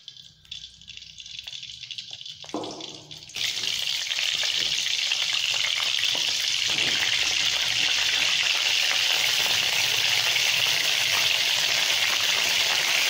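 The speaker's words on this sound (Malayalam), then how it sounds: "കടുക് വറുക്കാൻ വേണ്ടി ചട്ടി വയ്ക്കുക" Mustard seeds hit hot coconut oil in a pan for a mango pulissery, setting off a sudden loud, continuous sizzle and crackle after a few quieter seconds of handling sounds.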